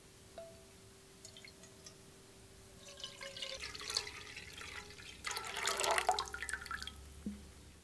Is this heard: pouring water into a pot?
yes